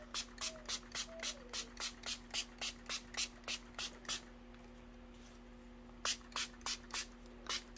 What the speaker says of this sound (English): spritz the front and back